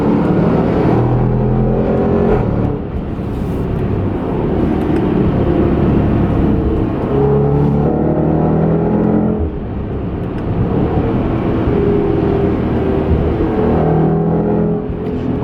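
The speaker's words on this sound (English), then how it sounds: "Let's see if we can capture that exhaust." A 2020 Range Rover Sport SVR accelerates hard, its exhaust roaring loud and close with rising revs, brief dips between gear changes, and no talking.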